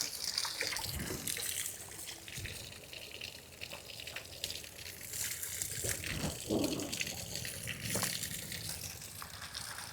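Canal water rushes and gushes steadily in an open channel at the Medaram Sammakka Sarakka fair, a continuous close, full roar with small splashy surges throughout.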